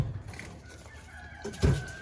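Quail in a wire feeder pen giving soft, short clucks and chirps, one louder call near the end, close by and otherwise quiet.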